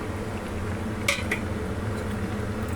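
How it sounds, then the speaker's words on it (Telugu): A utensil stirs tomatoes into an okra and fenugreek stew in a pot, giving two quick metallic clinks against the pot over a steady low kitchen hum. "టమాటాలు వేసుకుని ఒకసారి ఇలా కలిపాలి"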